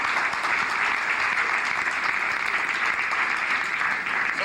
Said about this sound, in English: So I think we should applaud Brother Maddox.